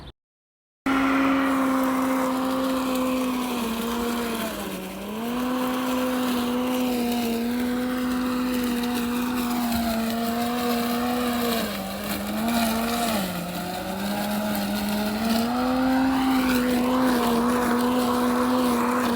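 A battery-powered lawn mower fitted with a 3D-printed blade cuts through thick, overgrown back-lawn grass, giving a loud, steady motor whine that dips and recovers in pitch as the load changes, with no talking.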